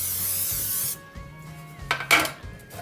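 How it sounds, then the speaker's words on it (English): Cooking oil spray hissing into small loaf pans for banana bread: a steady broadband hiss up front that cuts off, then a few short bursts and rattles of the can and pans, close and fairly loud. "Spray your cans with oil."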